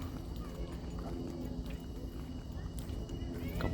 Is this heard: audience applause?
no